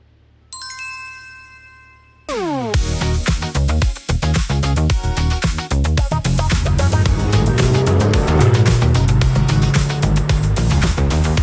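A Chevrolet Corvette C8 on a pizza delivery run sounds a brief chime, then its engine barks to life and drives away with loud rapid crackling bursts and rising revs that stay close and strong.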